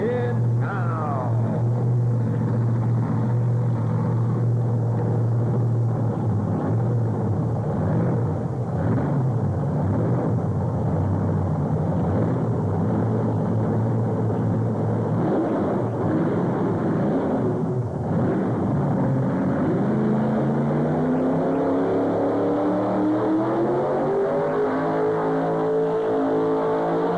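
A 1977 Chevrolet truck engine roars loud and steady at a tractor pull, holding a deep sustained rumble for about fifteen seconds before the pitch climbs in a rising rev as the truck pulls.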